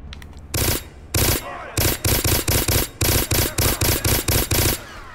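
Repeated gunfire in the video game Black, loud and close: short bursts and single shots in an uneven rhythm, about fifteen blasts over a few seconds, with a quieter game background between them.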